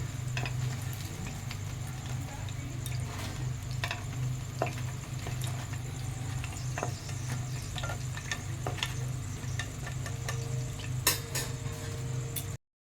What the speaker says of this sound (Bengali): বাকিগুলো অল্প অল্প দিয়ে এভাবে ভেজে নেব।